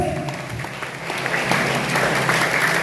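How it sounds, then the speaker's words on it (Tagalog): A congregation at a Christian school morning devotion in Bicol bursts into loud, sustained applause, a thick, continuous wash of clapping from a crowded room that holds steady throughout. "pinakamalakas na palakpak para sa Diyos"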